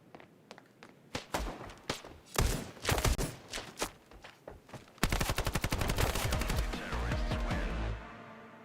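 Rapid gunfire from a fast-firing weapon in the video game Standoff 2: scattered sharp shots at first, then a long unbroken automatic burst, loud and close.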